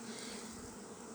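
Honeybees crowd inside a hive between the frames, giving a soft, steady buzzing drone that stays faint and close for a brief moment, with no voices.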